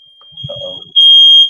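A smoke alarm shrills with a steady high-pitched tone that swells loud and continuous after a brief burst of talk, set off by cooking with gas in a home as snow falls outside.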